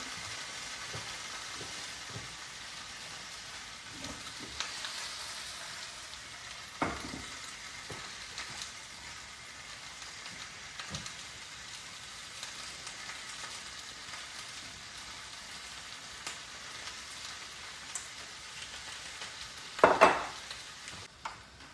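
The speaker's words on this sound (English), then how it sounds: "I'm going to add the half a cup of oil, and we'll bring that to heat." A half cup of oil heats in a pan for chicken jalfrezi, giving a low steady sizzle with faint crackles and an occasional light metal clink, close and quiet throughout.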